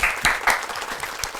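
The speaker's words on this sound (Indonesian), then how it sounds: "Tepuk tangan dulu dong" A brief burst of audience clapping during an interview at a landfill community, short and moderately loud with a few distinct claps standing out.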